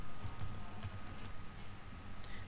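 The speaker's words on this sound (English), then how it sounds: "Type your password here." Keys clatter on a computer keyboard as a password is typed, a short run of quick, close, light clicks and taps in an otherwise quiet room.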